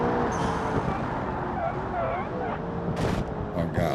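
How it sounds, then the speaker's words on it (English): A supercar in the BeamNG driving game, its engine whirring with turbo sounds that rise and fall in pitch, with tyre and traffic noise and sharp bursts near the end. "Oh, we can hear the turbos."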